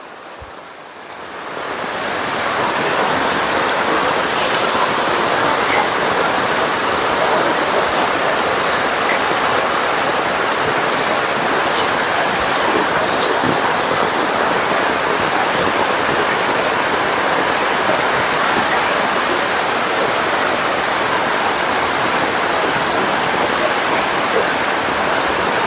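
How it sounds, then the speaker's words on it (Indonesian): Heavy rain pouring down during a flood in Makassar, a dense, loud, continuous roar that swells in over the first couple of seconds and then holds steady without a break. "Ini makin keras lagi hujan."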